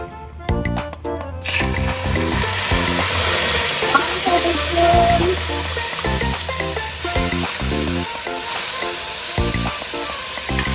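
Ketchup thrown into hot oil for a Trinidad pelau, a sustained hissing sizzle after a brief clattering start, broken by repeated knocks and scrapes of a utensil against the pot, close and fairly loud.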